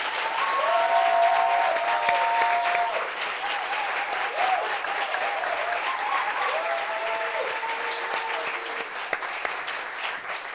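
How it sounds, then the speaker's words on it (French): An audience applauds as a guest is welcomed, with steady, dense clapping throughout and cheering voices rising above it. "Applaudissements pour elle, s'il vous plaît."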